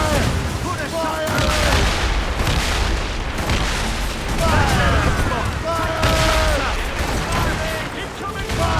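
Naval cannon fire from the Assassin's Creed Rogue video game booms in repeated heavy volleys amid battle din, loud and continuous, with shouted voices and whistling shots mixed in.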